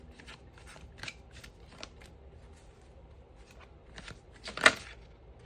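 Tarot cards are shuffled by hand, giving a series of soft papery riffles and flicks in short bursts, closest and loudest near the end, with no talking.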